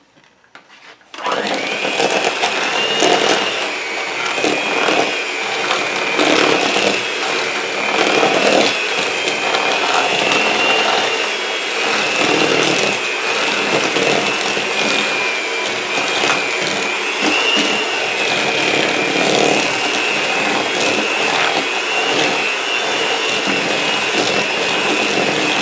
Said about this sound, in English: Now I'm going to cream this together.